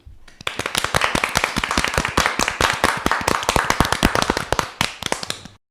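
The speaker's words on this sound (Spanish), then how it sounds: "estas chicas se merecen un fortísimo aplauso" Loud clapping from a small group at the close of a podcast interview with some girls, a dense run of sharp, rapid hand claps starting after a brief pause and carrying on steadily to the end.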